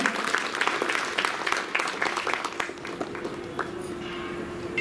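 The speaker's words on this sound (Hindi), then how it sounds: "उनके लिए भी जोरदार तालियां" Applause for actress Shobha Kulkarni at a Constitution award ceremony, a dense steady clapping from an audience that keeps going, then thins and fades toward the end.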